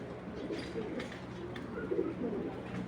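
Pigeons cooing softly in a loft, low throaty coos repeating over a few seconds at a modest distance.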